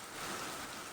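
Steady rain falls in a dense, even hiss that is close and continuous, with no voices and no clear thunder.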